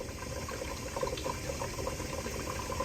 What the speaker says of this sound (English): it will drain and drain and trickle and trickle and trickle, but you will never see that solid flow of water